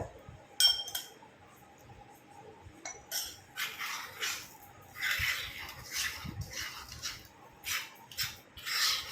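Homemade hair dye paste being mixed in a bowl, with scattered clinks and rubbing scrapes of a spoon against the bowl in short uneven bursts, close but quiet, no talking.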